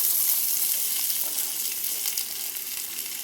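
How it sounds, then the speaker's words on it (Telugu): Onion sizzles and fries loudly in hot oil in a pan, a dense, continuous crackling hiss held close up with small bursts as it settles, no voices over it. "ఆయిల్ హీట్ అయిపోయింది కాబట్టి నేను ఇప్పుడు ఆనియన్ వేసేస్తున్నా"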